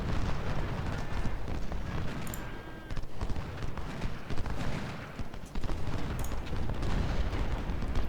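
Artillery and musket fire from the Ultimate General: Civil War game's Gettysburg battle rumble continuously, dense overlapping booms and crackling volleys forming a thick, steady roar of battle.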